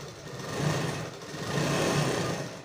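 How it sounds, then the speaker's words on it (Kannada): A sewing machine stitches a shirt, a steady close mechanical whirr with slight swells in speed through the run, no talking over it. "ಇಲ್ಲಿಂದ ಹೊಲಿಗೆ ಹಾಕೊಳ್ಳಿ"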